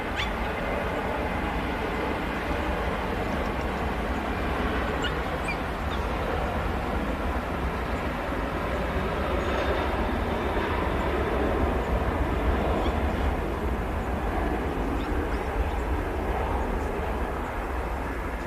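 A Ryanair airliner bound for Rome takes off at Manchester Airport, a steady broadband jet engine roar held at even loudness throughout, moderately distant with no talk over it.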